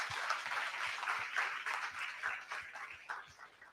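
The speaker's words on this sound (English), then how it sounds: "A big round of applause for all of them" A crowd at a marketing conclave and roundtable gives a warm round of applause for the panelists, steady dense clapping from many hands with a few sharper claps standing out, fairly distant in a large hall.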